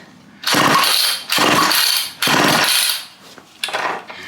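A seized chainsaw is pull-started and throttled in several loud, close revving bursts, each surging and cutting out, with a shorter sputtering rev at the end.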